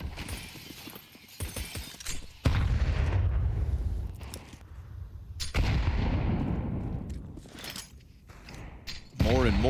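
Grenade explosions in a professional Counter-Strike match, two or three loud booming blasts with rumbling decay amid gunfire and game noise, under steady casting commentary.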